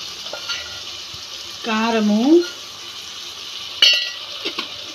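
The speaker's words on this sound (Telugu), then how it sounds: "ఇది కూడా ఒక్క వంతు మెత్తబడేదాకా వేయించుకుందాము" Ingredients for Nellore fish curry sizzle in a pan, a soft steady frying hiss broken by a short tonal scrape and a sharp knock of a utensil against the pan.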